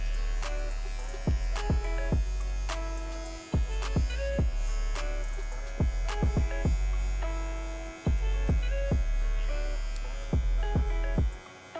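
An electric hair clipper fading hair during a self-cut with a guard, a steady close buzzing hum with a strong electric drone, repeatedly broken by sharp clicks and brief drops as the lever moves up and down.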